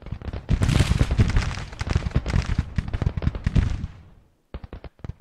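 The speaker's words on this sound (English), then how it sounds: "Oh, that's my artillery." Rapid booming volleys of artillery fire from a Civil War strategy game roll out in dense overlapping bursts for several seconds, fade, then return as a few sharp separate blasts.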